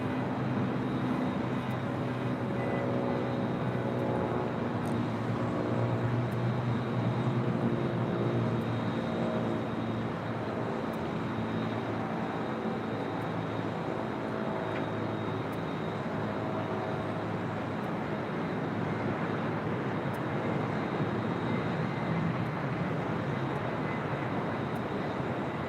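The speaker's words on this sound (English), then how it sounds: "we do have a Delta A321neo about to arrive" Delta Airbus A321neo jet arriving at Los Angeles International Airport, a steady broadband engine roar holding loud and constant throughout without a clear rise or fade, no voices over it.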